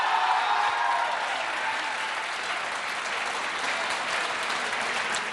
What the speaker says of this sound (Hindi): बजाइए ताली एक बार अपने में।